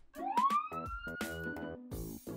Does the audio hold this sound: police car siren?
yes